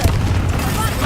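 A Confringo blasting spell goes off in Hogwarts Legacy, a dense, sustained booming rumble with heavy low-end energy that fills the whole moment, with voice-like sound mixed in.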